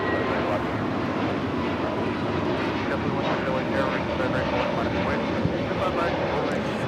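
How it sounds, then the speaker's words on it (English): A Delta Airlines Airbus A321neo on its takeoff roll at Los Angeles airport, a steady broadband engine roar holding loud and constant throughout, with faint voices talking underneath. "This is Delta Airlines 1875 taking off to Los Cabos on the A321neo."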